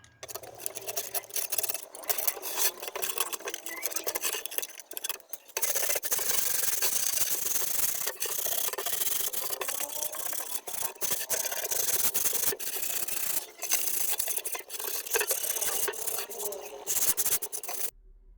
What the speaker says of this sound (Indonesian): Setelah usai untuk proses pengamplasan